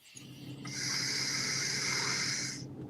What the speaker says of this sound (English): Take a smooth inhale with the nose.